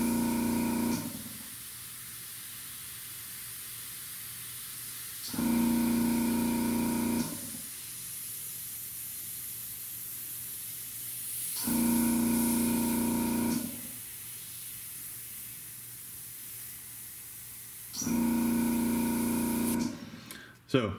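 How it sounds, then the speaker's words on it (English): Small airbrush compressor used with a Gunze Mr. Hobby Custom Micron airbrush, cycling on in loud droning bursts of about two seconds, separated by quieter hissing spray gaps, repeating four times. "I have to apologize for my compressor, it likes to talk."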